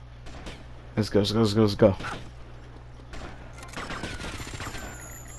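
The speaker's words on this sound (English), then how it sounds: "Freaking using a shotgun on your ass." Shotgun fire in the video game GTA Vice City comes as a loud burst of several rapid blasts near the start, followed by game effects, while someone talks briefly over the action.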